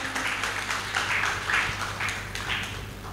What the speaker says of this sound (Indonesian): bisa kita beri tepuk tangan yang meriah